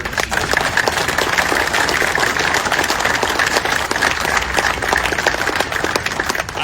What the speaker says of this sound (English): a round of applause for our emergency dispatchers